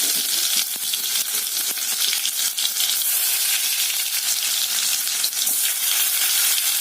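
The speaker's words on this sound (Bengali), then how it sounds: "সাদা তেলে আমি আলুটাকে ভেজে নেবো।" Boiled potatoes fry in hot white oil, a loud continuous crackling hiss close up, with faint stirring scrapes running through it.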